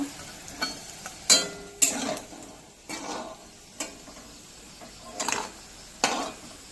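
Coriander leaf fritters fry in hot oil in a pan, a faint sizzle under repeated sharp clinks and scrapes of a utensil turning them, spaced about a second apart.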